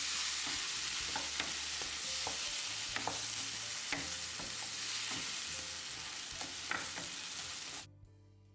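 Tomato paste stirred into a sizzling drumstick puli kuzhambu in a pan makes a constant frying hiss with soft scraping stirs throughout, then cuts off abruptly at the end.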